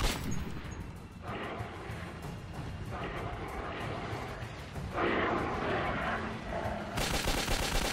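Gunfire from the Metro 2033 video game on Xbox 360, a dense, continuous clatter of shots with bursts swelling louder, layered with game soundtrack and voices.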